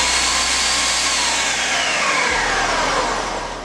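A food processor grinds food down to rice-sized grains: a loud, steady, close whirring roar throughout, the motor pitch dropping partway through as it keeps spinning.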